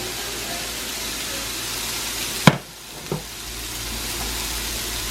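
Noodles frying in a hot pan give a steady broadband sizzle throughout, broken by a sharp clatter and a smaller knock as they are added and stirred, before the hiss settles again.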